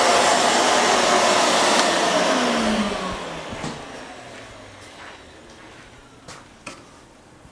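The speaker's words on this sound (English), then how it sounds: "Turn off the vacuum." A vacuum cleaner roars loudly and steadily for a few seconds while collecting sawdust, then shuts off and winds down, leaving faint clicks and taps in a quiet room.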